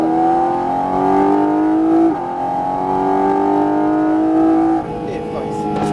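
Porsche 718 GT4 RS at full throttle on a race track, its engine note climbing steadily and loud through a gear with a brief shift dip, under continuous in-car instructor talk.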